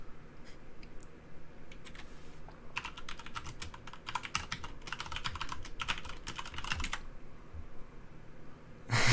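Typing on a computer keyboard during RuneScape play, a few scattered key taps and then a dense burst of rapid clicking lasting several seconds, close and fairly quiet, no talking.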